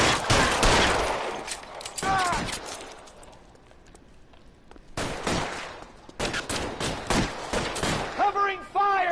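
Bursts of gunfire crackle in the LA Noire video game, rapid volleys of shots loud and close, broken by a quiet gap, with in-game voices shouting between the firing.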